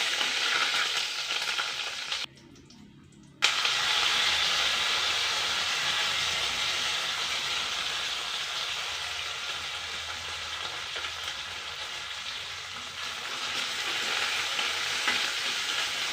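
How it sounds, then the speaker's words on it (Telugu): Peanuts, cumin and mustard seeds fry in a spoonful of oil with a little ghee, giving a dense, steady hiss that briefly cuts out and then resumes loudly and continuously, close up without speech. "ఒక స్పూన్ ఆయిల్ పోయాలండి ఇప్పుడు ఇందులో పల్లీలు జీలకర్ర ఆవాలు వేయాలండి ఒక్క నిమిషం ఫ్రై చేయాలి"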